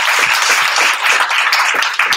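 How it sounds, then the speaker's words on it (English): A conference audience gives Kareem a round of applause: loud, close, steady clapping from many people throughout, with no speech over it. "Let's give Kareem a round of applause too"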